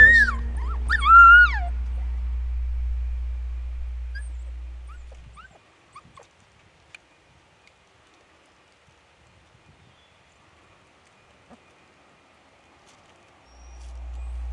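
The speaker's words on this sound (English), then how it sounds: "these unique lost pup howls and whines are available on the MFK Game Calls website" Coyote lost-pup call recording: a few high, wavering yips and whining howls near the start over a low rumble, then long near-silence with faint scattered clicks before the rumble returns.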